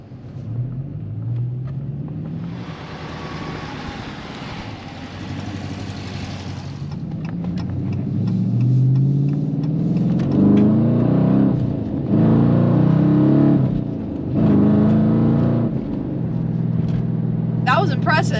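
A 2018 Dodge Challenger R/T with a 6-speed manual accelerates, its engine rumble swelling and climbing in pitch through the revs, heard from inside the cabin beneath ongoing conversation.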